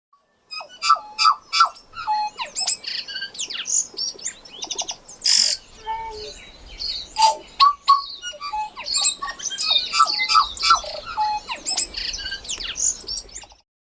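A New Zealand tui sings nearby, a busy run of clear tuneful notes mixed with rough clicks, coughs and wheezy squeaks, continuous and loud over a quiet background.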